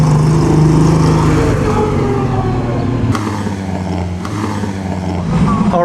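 A Mercedes 300 SL Gullwing race car of the Mexican road race type runs loud and close during the Mille Miglia in Italy, engine droning with harmonics and some pitch change as it passes, with other engine noise around.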